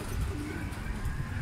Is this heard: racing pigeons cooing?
yes